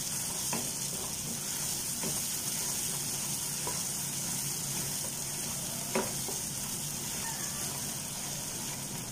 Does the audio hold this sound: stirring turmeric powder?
yes